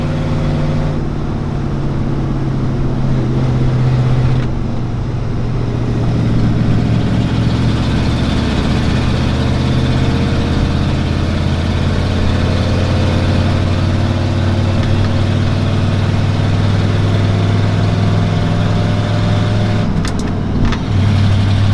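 A restored 1986 Ford F250 truck runs with a carburetor engine, a loud continuous low rumble close by, its pitch shifting slightly as it drives along steadily.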